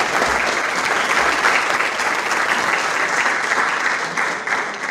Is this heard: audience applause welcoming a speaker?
yes